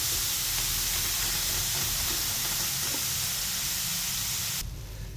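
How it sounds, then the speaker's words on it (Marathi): Eggplant dry-roasting without oil until charred spots form gives a steady, loud broadband hiss that carries on evenly and cuts off abruptly near the end, with no talking. "वांगे वगैरे सगळं हे बिना तेलाचं भाजायचं आहे."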